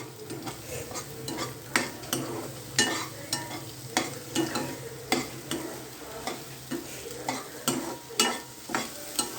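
A spoon stirs and mixes frying food in a pan, with repeated scraping strokes and metal clinks at an irregular rhythm over a steady sizzle, close up and without talk.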